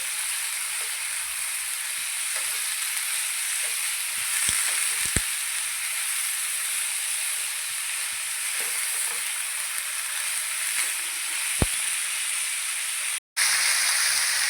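Flat bean pods fry in hot oil with garlic, giving a continuous bright sizzle with a few sharp spatula clicks, close and steady, briefly cut off near the end.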